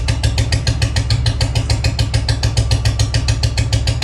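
Loud, close idle of a Bullet motorcycle with a heavy-sound exhaust kit: a deep, even thumping of exhaust pulses repeating rapidly and steadily throughout, with no voices.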